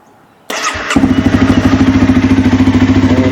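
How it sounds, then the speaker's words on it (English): A Honda CBR300R motorcycle engine, started to warm the oil before an oil change, cranks briefly, catches and settles into a loud, close, steady idle with a fast rhythmic pulse, no talk over it. "we'll turn the engine on"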